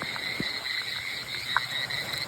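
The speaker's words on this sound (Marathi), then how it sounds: "बेडकांचा आवाज" A dense chorus of frogs croaks continuously nearby during heavy night rain in hills, layered with steady insect trilling and an occasional louder single croak.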